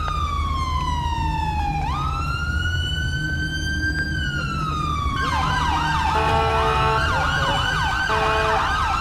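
Wailing ambulance siren in GTA 5 police-mod city patrol, loud and continuous, sweeping slowly down and up before switching to a rapid yelp pattern, over steady traffic rumble, with no talk.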